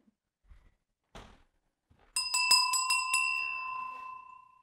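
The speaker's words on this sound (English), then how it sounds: "belling into those little corners in your space is really important" A bell rung into the corners of a room for spiritual cleansing strikes several times in quick succession, its bright ringing tones sustaining and slowly decaying, after a few soft knocks and handling sounds.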